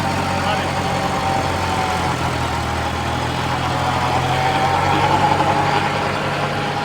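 A John Deere 53 tractor works a 9-foot rotavator in second gear, its engine droning steadily and fairly close beneath someone talking.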